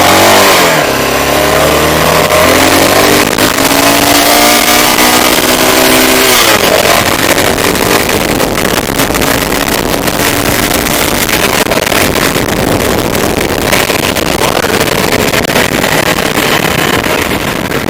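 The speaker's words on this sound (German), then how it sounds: "Sollen wir mal gleich mal ein bisschen Gas geben." A Honda SLR 650 single-cylinder motorcycle accelerates hard, loud and close, with its engine rising in pitch through the gears over strong wind roar.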